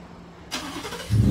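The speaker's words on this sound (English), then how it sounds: "remote start from your truck," A 2019 Ford F-150 XLT fires up by remote start outdoors, a sharp crank at mid-clip followed by a rising engine rumble settling toward idle, close and fairly loud.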